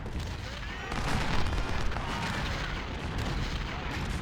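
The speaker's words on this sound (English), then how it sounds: "Oh, fantastic. More artillery." Artillery fire in a Civil War strategy game, a dense, continuous rumble of cannon booms and battle noise rolling steadily throughout, with no clear gaps.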